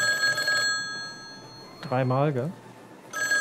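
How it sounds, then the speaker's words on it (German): A red telephone rings with a bright electronic trill at the start and again at the end, with a brief spoken word in between. "Ach, das ist ein rotes Telefon."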